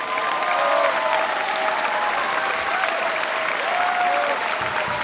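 Steady, dense applause from a large audience at the Opéra National de Bordeaux, an even continuous roar of clapping with faint voices underneath.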